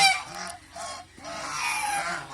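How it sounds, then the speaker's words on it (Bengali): A large male domestic goose honks several times in quick succession, loud, harsh and close, with short pauses between the calls and no talk over them. "এই যে দেখেন আর একটা ছেলে হাঁস"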